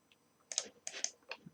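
Quiet computer keyboard typing while entering parametric equations in Grasshopper: three short bursts of clustered key clicks, close and crisp, with small gaps between them and no talk.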